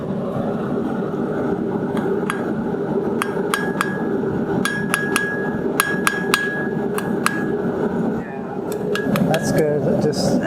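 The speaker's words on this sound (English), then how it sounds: "use a lighter hammer" A lighter blacksmith hammer strikes hot metal while forging a J hook, in irregular bursts of sharp ringing clinks, some in quick pairs, over a steady background hum with faint voices.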